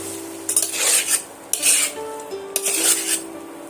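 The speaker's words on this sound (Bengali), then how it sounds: "দিয়ে আমি সমস্ত মশলাগুলো আবারও আমি এইভাবে নেড়ে চেড়ে দিলাম" Spices are stirred in a pan for an egg and brinjal curry, giving three bursts of scraping and clinking from spoon against metal over a faint sizzle, with no voices.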